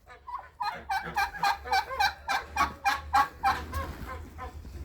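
Turkeys gobble repeatedly in a quick, rhythmic series of bubbling calls, close and fairly loud, with a low rumble of background noise.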